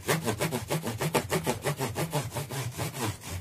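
Guitar frets on a Jackson Adrian Smith guitar are rubbed with 6000-grit abrasive during a setup. Close, quick, steady back-and-forth scrubbing strokes repeat rhythmically.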